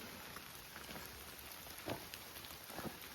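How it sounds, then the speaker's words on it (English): Steady rain falls on a foggy stretch of the Appalachian Trail, a soft, even hiss of drops with a couple of slightly louder splashes. It is faint and continuous, with no one talking. "still foggy, rainy, I'm soaking wet"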